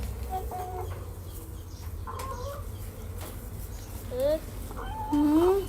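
Chickens with soft-downed chicks cluck in short, scattered calls, a few nearby and louder toward the end, over a low background hum, while a person talks.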